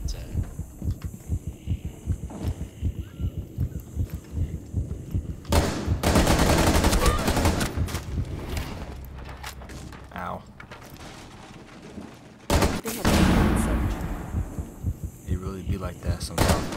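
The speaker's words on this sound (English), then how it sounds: "He tried to shoot me immediately" Video game gunfire crackles in repeated bursts of shots, some dense and loud and others sparser. Players talk over the shooting throughout.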